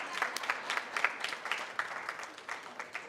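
Audience at a media and civil society conference applauding the organizing team, a steady patter of many hands clapping at moderate distance with irregular louder bursts, no talking over it.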